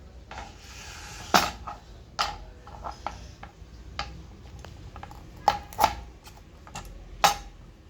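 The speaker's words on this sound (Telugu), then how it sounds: "అది ఏ విధంగా కట్ చేయాలో చూపిస్తాను" A knife cuts through small karonda (vakkaya) berries on a board, giving sharp, irregular taps and thuds spaced over several seconds, close and fairly quiet, with no talking.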